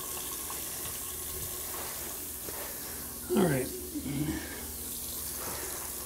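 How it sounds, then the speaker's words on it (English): Water pouring at full flow from a water-restricting bathroom faucet into a newly installed vanity sink drain, a steady hiss with a brief splashing surge partway through, close by. "This is a water restricting faucet. Okay, that is full power."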